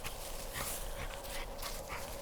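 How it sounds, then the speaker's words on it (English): A dog whimpers and whines close by at a campsite, a steady thin high-pitched sound running through the whole short stretch with no voices over it. "Crazy dog."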